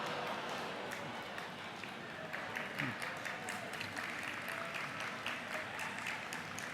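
Applause from a large plenary audience in a meeting hall, a continuous wash of clapping that holds steady throughout with scattered louder claps.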